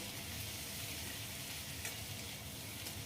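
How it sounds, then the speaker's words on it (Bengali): Ginger garlic paste hits hot oil already holding cloves, small cardamom and a little cinnamon, giving a steady, loud, close sizzle that crackles evenly throughout, cooked for a prawn malai curry. "ফোড়নটা হয়ে যেতে আমি হাফ চামচ আদা রসুন বাটা দিলাম।"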